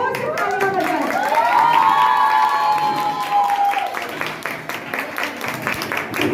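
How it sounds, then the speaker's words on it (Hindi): An audience at a charity foundation's competition and felicitation programme claps and cheers loudly, a dense sustained round of applause with shouts and rising voices over it. "तो मैं चाहती हूँ सब लोग जोर से तालियां बजाएं।"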